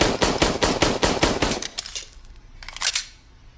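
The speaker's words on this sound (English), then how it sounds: "now we're unsupported standing, doing a mag dump" Rapid M9 pistol magazine dump fired standing unsupported: a fast string of about a dozen sharp, loud shots over 1.5 seconds, then a pause and a final short burst of a few more shots.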